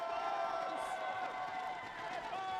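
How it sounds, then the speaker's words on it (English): Esports tournament crowd cheering and roaring continuously at a champions' celebration, a dense wash of voices and whistles close and loud throughout, with no pauses. "The crowd is going crazy."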